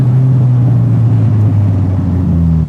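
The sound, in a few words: Nissan S14 Rocket Bunny drift car engine revving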